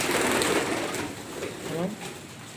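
Pigeons cooing close by in a loft, soft low throaty coos repeating over a short stretch, with some light background voice or movement.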